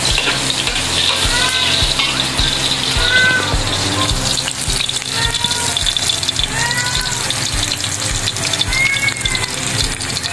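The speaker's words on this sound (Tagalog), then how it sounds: "Prito na naman yan?" Steady sizzling of food frying in oil fills the clip, a dense crackling hiss with occasional chirpy squeaks over it, during preparation of sautéed mung bean stew with pork.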